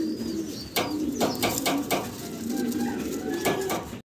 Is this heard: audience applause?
no